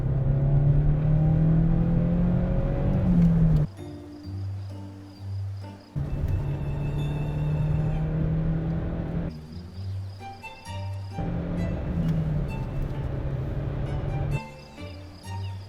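Engine and road noise inside a Citroën Xantia cruising at 130 km/h and 3800 rpm, a steady loud drone and whir that shifts in character several times.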